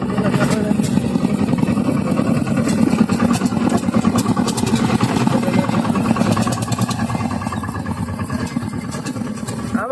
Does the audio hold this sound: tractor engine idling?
yes